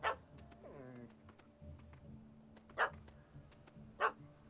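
A puppy in The Witcher 3: Hearts of Stone gives three sharp barks spaced over a few seconds, quiet and set against a low outdoor ambience with faint whimpering.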